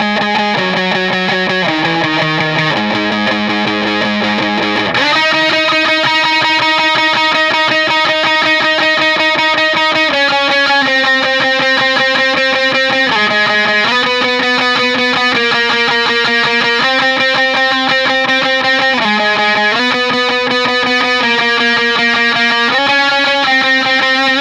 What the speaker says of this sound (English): I come in, I turn on my distortion